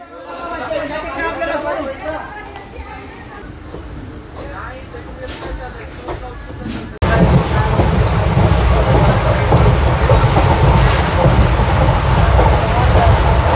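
An Intercity Express train runs from Nanded to Adilabad. Passengers chatter inside the carriage over a low rumble, then a sudden jump brings a loud, steady roar of wheels and wind for the rest of the stretch.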